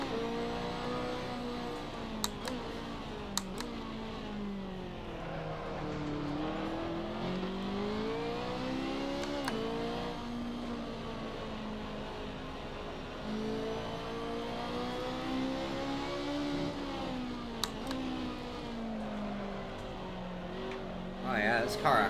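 A BMW race car engine in the Assetto Corsa racing game, driven on the Nurburgring GP circuit, drones steadily throughout with rising and falling pitch through the corners, while someone talks over it.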